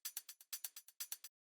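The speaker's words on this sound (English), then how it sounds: "these are just some hi-hats from like an old vinyl break" Pitched-up hi-hats sampled from an old vinyl break: a quick run of crisp, bright ticks in two short rhythmic bursts, close and dry with no voice over them.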